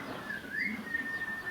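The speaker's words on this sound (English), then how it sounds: "The sound of birds singing their greeting." A single drawn-out whistled bird call rises and then holds a thin, clear tone, sounding the dawn birdsong in a high school drama team's stage play, with faint room noise underneath.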